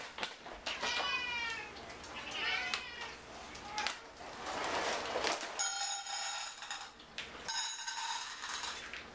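A cat meows repeatedly around dry cat food, its rising, wavering cries coming in clustered bursts with a few longer calls, close and clear over faint clinks of dishes and a background of voices.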